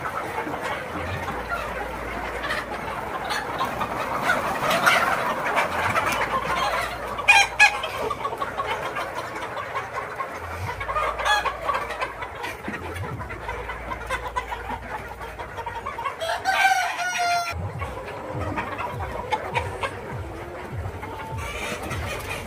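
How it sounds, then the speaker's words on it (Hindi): Mature, laying Black Australorp hens and roosters in a farm poultry shed cluck and crow repeatedly, with overlapping calls and scattered crowing over a low background hum. "ये ब्लैक एस्ट्रोलार्ब की मुर्गियाँ हैं जो कि फुल मैच्योर हो चुकी हैं और अंडे पे आ चुकी हैं।"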